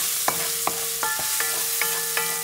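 Rice base frying in a pan with half a teaspoon of ground cumin, stirred with a steady sizzle and several distinct scraping strokes of a utensil against the pan, close and alone.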